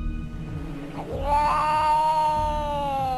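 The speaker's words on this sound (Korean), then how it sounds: "어둠을 뚫고 나타난 의문의 침입자 건 바로 고양이" A cat meows in a long, drawn-out, wavering cry that rises and holds, fairly close, over a low background rumble.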